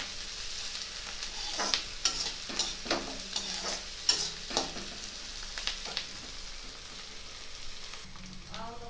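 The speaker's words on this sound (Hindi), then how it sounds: "जब तक ब्राउन हो जाती है तब तक मैं इसे भूनूंगी।" Onions fry in a pan with deghi chilli, turmeric, meat masala and coriander powder, a steady soft sizzle broken by repeated scraping stirs of a spoon against the pan.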